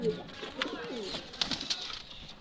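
A pigeon coos softly nearby, with a few sharp chirps and clicks breaking through, no talking.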